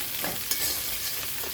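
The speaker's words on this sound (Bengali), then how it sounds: "পেঁয়াজটা বন্ধুরা, পেঁয়াজটা ভাজা হচ্ছে।" Onions frying in a pan for a Bengali fish curry with potato and papaya give off a steady close sizzle, with a stirring scrape midway and no voices.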